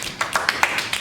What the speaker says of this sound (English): Give Brittany a round of applause.